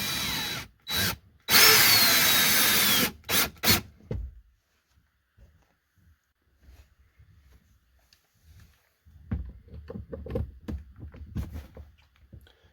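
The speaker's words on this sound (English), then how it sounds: "I'd recommend drilling a couple pilot holes." A power drill boring pilot holes for mounting Loyo rock lights inside an XJ, several loud short bursts and one longer run at the start, followed by quiet clicks and handling noise.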